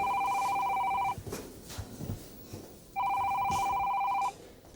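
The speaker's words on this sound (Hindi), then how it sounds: "चलो, तुम्हारा फोन आया।" Two long bursts of an electronic telephone ring, each over a second long, separated by a short pause filled with faint background noise.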